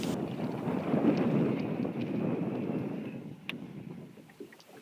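A small boat moves across open water, recorded from on board, with a steady broadband rush of wind and water that fades slightly toward the end and carries no voices.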